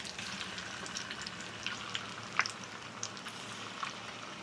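Homemade masala paste for mutton fries in hot oil with a soft, constant sizzle and scattered small pops and crackles, fairly quiet and close.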